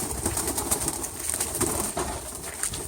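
Hungry pet pigeons or doves coo repeatedly at feeding time, close and fairly loud, with soft rustling between the calls and no talking.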